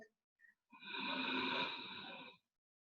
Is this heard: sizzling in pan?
no